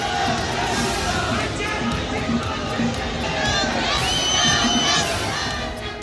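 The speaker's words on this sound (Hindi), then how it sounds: "भीड़ इतनी कि पैर रखने तक की जगह नहीं थी।" A dense, roaring crowd at a political road show in Himachal packs the street, with continuous cheering and shouting rising and falling at close range over several seconds.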